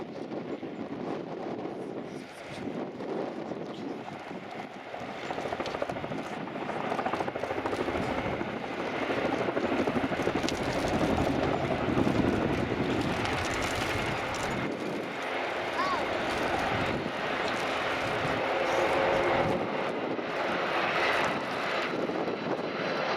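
An RAF Atlas transport aircraft taxis past at an airshow, its engines a loud, steady droning roar that swells as it draws near, with a commentator talking over the noise.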